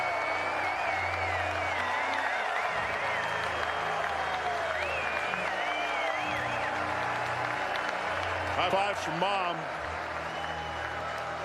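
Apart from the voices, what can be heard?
baseball crowd applauding a home run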